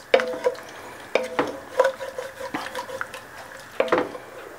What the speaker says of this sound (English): Scrape the bottom of the pot.